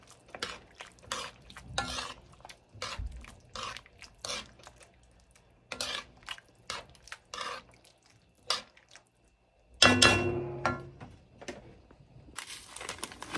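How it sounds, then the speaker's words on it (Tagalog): Sweet and sour fish is stirred in a pan with repeated scraping and sizzling strokes in an irregular rhythm, close and moderately loud, with a louder splashy burst partway through. "Then mix it again."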